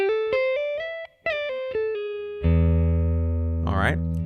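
An R&B electric guitar skate riff played as clean, quick picked notes with hammer-ons, sliding up in steps, then a sustained ringing chord and a brief bent flourish near the end, alone and close.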